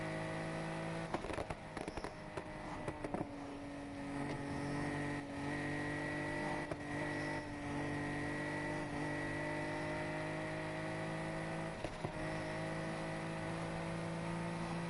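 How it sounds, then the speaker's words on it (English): In the racing video game Need for Speed Heat, a steady, high-pitched car engine drone holds across the whole clip, with sharp crackling pops and backfires scattered throughout, like a revving race car. "it's just a beautiful thing to see though, and hear this car"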